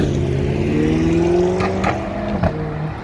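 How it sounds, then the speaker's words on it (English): A sports car engine drones and revs on a downtown Chicago street, a loud steady low rumble with rising pitch lines, heard close amid general traffic noise. "Nice sports car over there. A little bit noisy."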